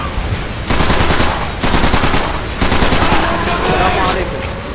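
Machine gun fire in Call of Duty 3 rattles in loud, dense bursts, three sustained volleys separated by brief pauses, close and dominating.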